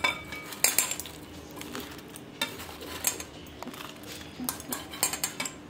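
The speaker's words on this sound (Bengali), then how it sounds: "এবার বড়াগুলো আস্তে আস্তে দিয়ে দেবো।" Fried lentil vadas go one by one into a dish of salted, sugared water, giving soft clinks and light taps of utensils against the bowl at a close, quiet level.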